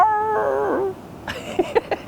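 A person imitates a dog, with a falling, wavering howl-like tone followed by a few short yipping barks, close and fairly loud.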